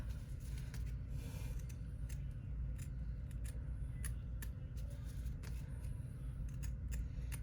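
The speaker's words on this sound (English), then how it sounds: "just use your regular scissors and just cut about 1/8 of an inch away from the final bean stitch there" Regular scissors trim fabric close to embroidered bean stitching on a slim cell-phone bag, giving a series of crisp snips and cutting clicks over a steady low background hum.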